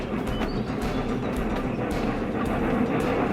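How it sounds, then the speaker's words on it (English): A rack and pinion mountain railway train on Snowdon pushes passenger wagons up a steep slope, a loud, continuous rumbling drone with faint rhythmic clicks and clanks, close by and without voices. "mountain railways like this one at Snowdon would later use the system to push passenger wagons up steep slopes"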